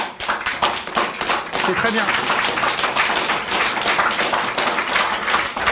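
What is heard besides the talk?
audience applause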